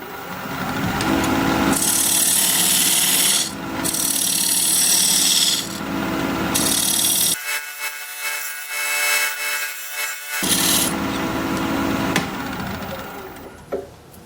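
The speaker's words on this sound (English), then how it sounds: "use this diamond point tool to square up the sides of the tenon" A diamond point tool squares up the sides of a wood tenon on a lathe for an oval bowl, making loud scraping and rasping bursts with brief pauses and a quieter gap partway through.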